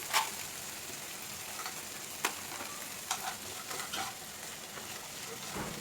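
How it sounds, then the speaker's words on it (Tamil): Tomatoes with salt being stirred in a frying pan give a steady, soft sizzle broken by a few sharp spoon scrapes against the pan. "எல்லாத்தையும் நல்லா மிக்ஸ் பண்ணி விட்டுட்டு மூடிடலாம்."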